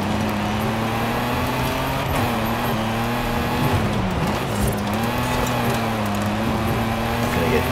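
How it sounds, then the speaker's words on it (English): A tiny Ford Escort in the racing game Forza Horizon 5 drives around a corner, its engine droning steadily with pitch dipping and rising through the bend, loud and close, with talk over it. "Tiny little escort, boot around the corner."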